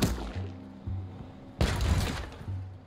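A cannon fires in the Tiny Tina's Wonderlands video game as one heavy, booming blast that follows several lighter thumps, with a rumbling tail fading out after it.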